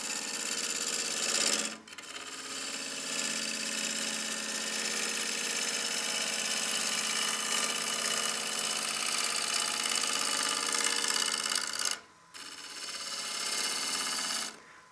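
A bowl gouge trues the outside of a partially seasoned wood bowl on a lathe, giving a steady hissing, buzzing cut that stops briefly twice before resuming.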